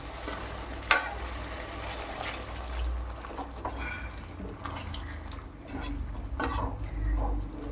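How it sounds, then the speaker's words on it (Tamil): Water poured into a pot of simmering chicken curry and stirred in, giving a soft liquid splash over continuous sizzling and occasional scrapes of a spoon against the pot, heard close with no talking. "கொஞ்சம் தண்ணி விட்டு வேக வைக்கலாம்."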